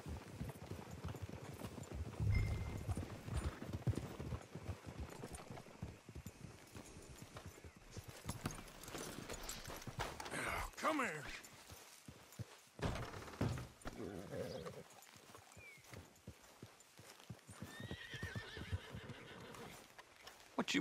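Horses walk with slow, uneven hoof thuds in an Old West setting, and whinnies and snorts rise now and then; the sound is faint and distant, and a few scattered voices speak over it.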